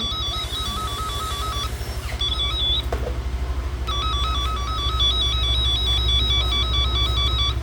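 A wire break detector gives a steady electronic whistling tone that pulses in a repeating pattern, briefly pausing, over a constant low mechanical hum.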